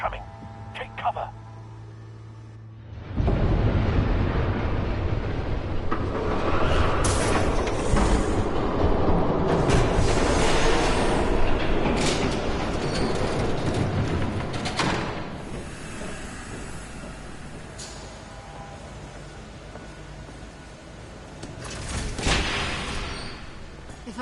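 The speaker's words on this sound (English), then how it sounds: "There's a train coming." A train approaches in The Batman Telltale Series video game: a broad, loud rumbling roar swells in after a few seconds of quiet and holds steady, then eases off toward the end.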